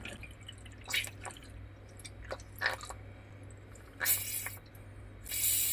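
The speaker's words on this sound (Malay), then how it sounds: "Kita keluarkan angin, air mula masuk memenuhi tabung filter ini." Water fills a plumbing filter housing as trapped air is bled out, heard as quiet, close bursts of hissing spray and gurgling spurts over a low hum, the last few louder and longer.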